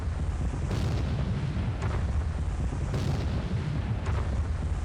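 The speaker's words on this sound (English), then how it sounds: "It's firing its deck gun" A submarine's deck gun fires in a naval war game, heavy booming shots landing about every two seconds under a continuous loud low rumble of battle noise, with no talking.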